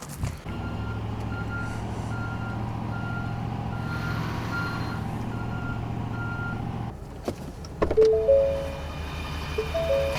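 A truck reverses at a woodland work site, its backup alarm sounding a steady run of evenly spaced beeps over a continuous engine drone, before the engine shifts and revs near the end.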